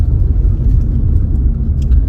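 A car labours along a rough, potholed narrow mountain road in Spiti Valley, its engine and body giving a loud, constant low rumble with faint rattles, no talking.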